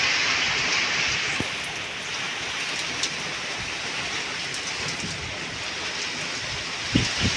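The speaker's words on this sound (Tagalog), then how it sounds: "Lakas ng ulan talaga." Heavy rain pours steadily in a dense, constant hiss, with occasional louder drops or thumps nearby.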